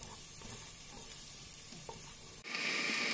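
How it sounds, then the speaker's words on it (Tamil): Chopped onions sautéing in a pan, a steady soft sizzle with occasional stirring scrapes, close up and without talk. "அந்த 2 பெரிய வெங்காயத்தை பொடியாக நறுக்கி அதை போட்டு வதக்குங்க."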